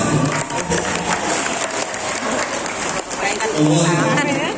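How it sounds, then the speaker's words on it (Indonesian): Crowd of mostly women clapping at a Maulid Nabi religious lecture in Lebak, a busy wash of applause with some cheering, a voice speaking over it toward the end. "Boleh tepuk tangannya."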